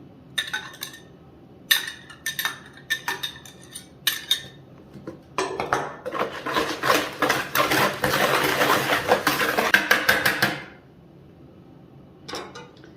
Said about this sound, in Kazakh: Енді венчикпен жақсылап араластырып шекерді ерітіп аламыз